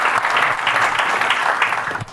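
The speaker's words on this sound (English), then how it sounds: "Round of applause for open source contributors and maintainers." A conference audience at ElixirConf EU claps for open source contributors and maintainers, a dense, even burst of applause filling the room for about two seconds before it tapers off.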